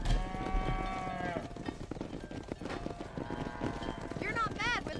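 Cattle herd in the Red Dead Redemption video game: moos and lowing calls rise over steady hoof clip-clop and ranch ambience, with a voice talking over them and a sweeping musical tone near the end.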